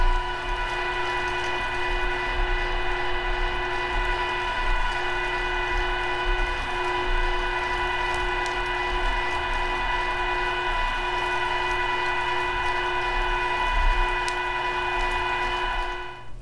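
A meat grinder re-grinds chorizo sausage, giving off a steady, continuous motor drone with a tonal hum that runs unbroken throughout at an even level.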